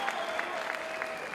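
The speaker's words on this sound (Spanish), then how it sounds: "Un fuerte aplauso" Crowd at a Red Bull Batalla de los Gallos rap battle in Mendoza, Argentina, clapping in a brief, fairly faint burst, with a tonal hum running underneath and a few sharper claps standing out.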